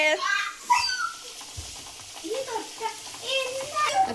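A spoon scrapes and stirs chicken and pasta around a pan, with a light sizzle underneath and a few scattered clatters.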